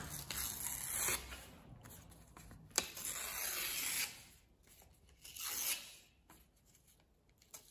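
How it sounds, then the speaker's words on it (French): Paper ripping in several bursts of crisp, close tearing and rustling, with quieter pauses between pulls; no speech. "Et on va déchirer l'autre papier également."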